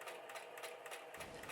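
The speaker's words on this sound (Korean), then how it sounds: "재봉틀 드르륵 하는 소리도 잠깐 듣고 마음의 평화를 얻고 가보세요" A domestic sewing machine running steadily with a continuous whirring rattle, heard close and alone with no voices, its tone dropping slightly near the end.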